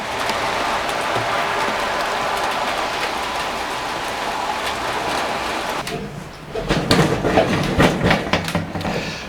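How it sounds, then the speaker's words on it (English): Heavy rain pours down outside a workshop, a steady broadband hiss that runs unbroken for about six seconds before shifting to a closer, uneven patter with louder scattered drips and knocks. "It's literally just started chucking it down just as I've finished."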